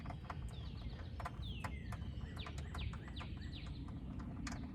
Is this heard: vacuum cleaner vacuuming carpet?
no